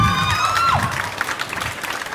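Audience applauding a school group at a Swedish school exhibition event in Halmstad; a brief, steady wash of clapping holds through the short moment, with a faint tonal sweep early on.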